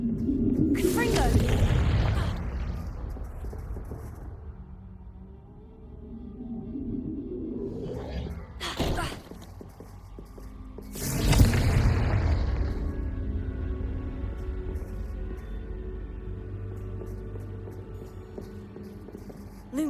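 Confringo spell blasts go off in Hogwarts Legacy, with two big booming explosions a few seconds apart, each followed by long rumbling decay, plus a smaller burst between them and a brief voice early on.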